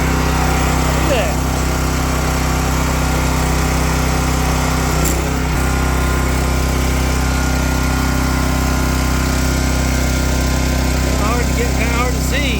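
A Wolf Ridge 28 Pro-X log splitter's engine runs loud and steady while splitting oak firewood, a close, continuous droning hum with no breaks for the full stretch.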